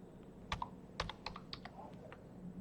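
Quiet keystrokes tap on a computer keyboard in an irregular sequence of a dozen or so clicks, close and faint with no voices.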